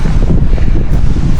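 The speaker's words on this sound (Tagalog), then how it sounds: "Lakas ang hangin." Strong wind on a mountain top at Mount Brigino buffets the microphone in a loud, constant roar with gusty low rumbling and no letup.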